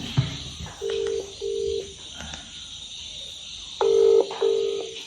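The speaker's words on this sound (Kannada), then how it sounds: "mobile ring open" A phone ringback tone sounds in two double bursts, a pair of short tones, a pause, then another pair, over a faint electronic hiss.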